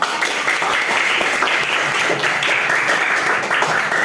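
Students in a classroom applaud a classmate. The clapping is steady and dense, fairly close and evenly loud throughout, with no talk over it.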